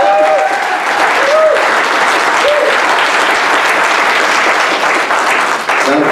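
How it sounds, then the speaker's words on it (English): A crowd claps loudly and steadily throughout at a political talk by a Libertarian gubernatorial candidate, a near, dense wash of applause with faint whistles mixed in. "That applause alone will tell you right there that people want change."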